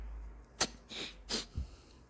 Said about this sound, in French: Tellement qu'il dit la vérité, il doit éternuer